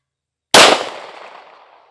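A single loud, close gunshot from a Springfield Armory Prodigy Comp compensated pistol cracks sharply outdoors, then rings and decays over about a second, with no voices around it.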